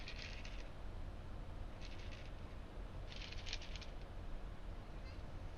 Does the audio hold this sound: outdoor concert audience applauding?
no